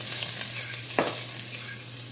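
Onions and minced garlic sizzling in a hot pan on the stove, a steady close frying hiss with one brief scrape or stir partway through.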